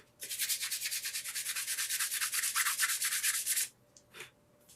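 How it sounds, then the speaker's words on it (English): Hand sanding of a Les Paul guitar body being rebuilt: a steady run of rapid back-and-forth abrasive strokes for several seconds, close and fairly loud, then stopping, followed by a short faint scrape. "All right, you don't have to watch me sand it."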